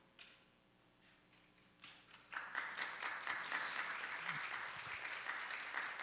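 Church congregation applause builds from a few scattered claps into dense, sustained clapping that fills the room, heard from a moderate distance.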